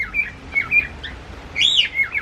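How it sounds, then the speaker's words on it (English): A kea, a native New Zealand parrot, gives a short series of shrill, high chirping calls close by, several brief notes ending in a louder rising squawk over faint background noise. "They're native New Zealand birds."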